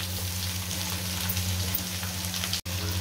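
Garlic cloves and ginger dropping into onions frying in a pan sizzle with a steady, close crackle, with a low hum underneath and a momentary cut near the end; no talking.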